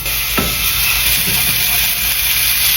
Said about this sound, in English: I'm gonna turn the skillet back on and we're gonna fry some meatballs